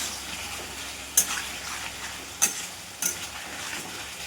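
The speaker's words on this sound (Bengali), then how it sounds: "দেখো পটল আলুটা কিন্তু ভালোভাবে কষে নিয়েছি, দেখো তেল ছেড়ে গেছে।" Pointed gourd and potatoes sauté in oil with spices, a soft steady sizzle broken by three brief spatula scrapes against the pan; no one speaks.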